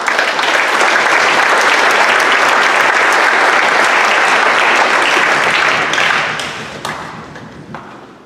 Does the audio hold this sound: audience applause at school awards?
yes